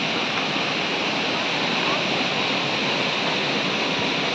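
Furli Jharan waterfall in Kalahandi roars continuously, a dense, loud wash of rushing water that fills the scene with no breaks.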